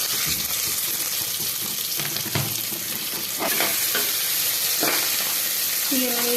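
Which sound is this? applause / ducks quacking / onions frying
onions frying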